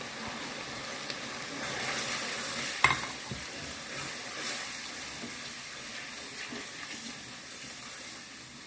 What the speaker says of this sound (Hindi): ये देखिए मेरा अच्छा सा मसाला भून चुका है